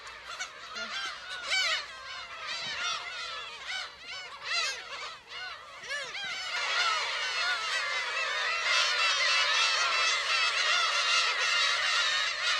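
A dense black-tailed gull colony on Dokdo island calls continuously, many overlapping harsh, honking cries rising and falling at close range, growing fuller and busier in the second half with no pause.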